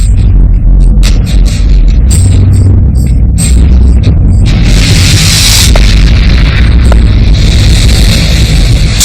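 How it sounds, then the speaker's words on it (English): Deep, loud rolling boom of a meteorite air-burst explosion over the Abruzzo Mountains, a sustained heavy rumble with crackling bursts filling the whole stretch. "There was an enormous explosion, probably in the air, as bright as a second sun."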